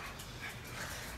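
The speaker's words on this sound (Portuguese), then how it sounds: "Os cachorros já chegam gritando comigo. Me dá minha comida." Dogs bark and yip for their food in a faint, continuous jumble of overlapping barks and whimpers, heard from a little distance with no talk over them.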